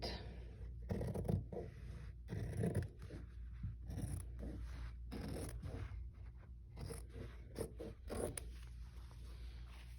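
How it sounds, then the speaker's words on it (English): Close, crisp scissor snips slicing through fabric for a child's apron, coming in irregular bursts with short gaps, quiet and alone. "Then I'm going to take my scissors,"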